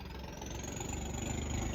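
A tractor engine idles nearby with a steady, low rumbling chug throughout, loud and unchanging.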